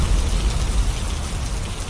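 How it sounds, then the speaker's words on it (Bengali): A heavy downpour sound effect from a Bengali horror cartoon: a dense, loud, unbroken rush of rain with no voices over it. "সে সঙ্গে ভেসে এলো বাইরে মুসলধারে বৃষ্টির শব্দ ও মেঘের ডাক"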